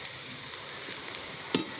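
Onions frying in a wok for a panta bhat biryani, a soft steady sizzle with a brief louder clink or stir near the end, no talking.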